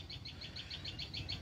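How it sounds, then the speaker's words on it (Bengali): A bird calls outdoors near a river, a rapid series of evenly spaced high chirps repeating over a low background rumble. "অনেক সুন্দর পাখির ডাক"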